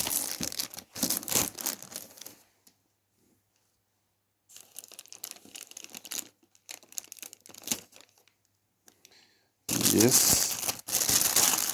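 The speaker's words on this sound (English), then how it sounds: "I'm going to tear this so that we can see what the receiver looks like" Cardboard packaging of a GTD Audio G622H wireless microphone system is torn open, with loud, close crinkling and ripping in bursts separated by silences, alongside a speaking voice.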